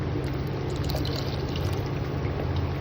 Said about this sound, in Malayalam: ജാറും കൂടെ ഒന്ന് കഴുകി ഒഴിക്കുക